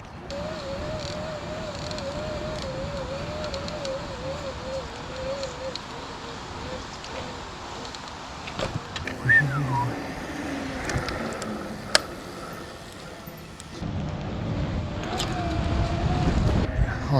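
A motorcycle revs and accelerates uphill while the rider lifts into a wheelie, its wavering engine note steady at first, then fading into wind noise before building again toward the end, with someone talking over it.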